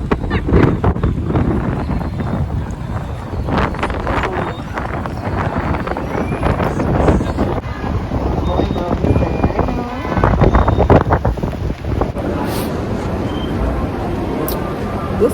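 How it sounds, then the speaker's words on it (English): Strong, cold winter wind buffeting a microphone outdoors on a snowy town street, a loud, rumbling, gusty roar that swells and dips throughout, with some voice in the mix. "this is what the wind is doing"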